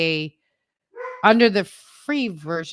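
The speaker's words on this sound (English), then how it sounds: "Excuse my dogs." Several dogs barking indoors, a quick run of sharp, loud barks between stretches of someone talking.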